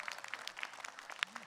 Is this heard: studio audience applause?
yes